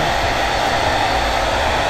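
A hair blow dryer runs steadily up close, a loud continuous broadband whoosh with no pauses.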